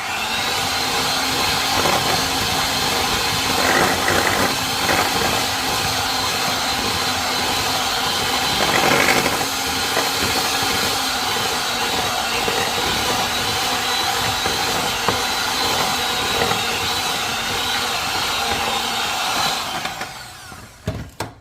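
An electric hand mixer beats flour, eggs and walnuts into an oatmeal bar batter, a loud, continuous whirring drone up close that wavers slightly in pitch before cutting off at the end.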